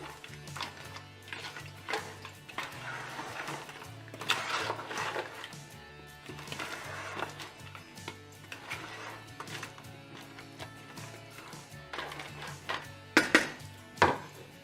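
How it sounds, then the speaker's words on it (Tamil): Crab pieces dropped into a pan of boiling Chettinad-style gravy and stirred, with clinking and scraping of utensil against metal, irregular knocks growing sharper toward the end, no talking. "இப்போ நம்ம இந்த நண்டெல்லாம் இதில் ஒன்று ஒன்றா சேர்த்துக்கலாம். நல்லா மிக்ஸ் பண்ணி விட்டுட்டு"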